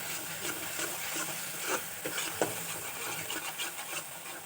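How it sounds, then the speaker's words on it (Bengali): Spices with turmeric powder and salt fry in a pan for rui fish rosa, a continuous close hiss broken by rhythmic spatula scrapes and soft knocks against the pan. "যাতে কাঁচা গন্ধটা মশলার চলে যায় তত পর্যন্ত কষাতে হবে"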